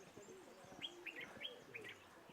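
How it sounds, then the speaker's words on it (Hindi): Birds chirping in an oasis valley in Morocco's Atlas Mountains: a string of short, high tweets repeating every half second or so, fairly soft, over a low rumbling background. "और परिंदों की चहचहाती आवाज़ें देखें"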